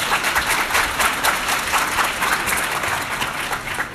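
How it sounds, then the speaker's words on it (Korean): A conference crowd at PyCon 2017 in Seoul's COEX gives full, sustained applause for a keynote speaker, a dense wash of clapping that eases off slightly toward the end. "큰 박수 부탁드립니다"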